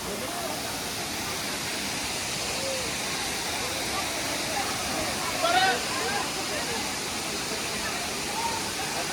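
CKM waterfall roars as a steady, broad rush of falling water throughout, with faint voices briefly audible beneath the constant noise.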